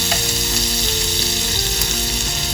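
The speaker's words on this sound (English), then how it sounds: "So after this butter is melted, we can put some" Butter melting in a pan for pasta, a dense, steady, loud sizzle with faint bubbling, close and continuous, no talk.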